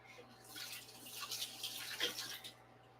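Water runs from a tap to rinse a coffee brewer, a soft, close, steady splashing that swells in the middle and fades out near the end.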